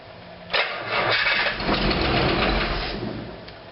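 A 1956 DeSoto Seville V8 cranks and fires on its first start, catching after a sharp onset and running roughly, loud and close, with no talking.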